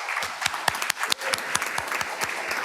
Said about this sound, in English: So please give everybody a round of applause.